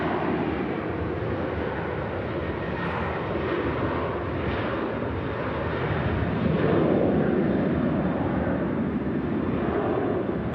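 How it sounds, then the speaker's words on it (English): A Ryanair jet takes off at Manchester Airport, its engines giving a steady distant rumbling roar that builds slightly toward the end, with no voices. "And off goes a fellow Ryanair."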